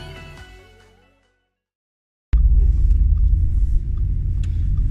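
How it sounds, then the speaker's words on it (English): Engine of a 2013 Audi RS4 (331 kW) bursting in after a moment of silence, a loud, close, sustained low rumble from inside the car, preceded by fading music. "here we find ourselves in a 2013 Audi RS4"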